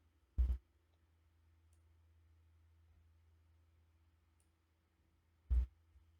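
A computer mouse clicks twice, sharp and close, several seconds apart, over a faint steady hum.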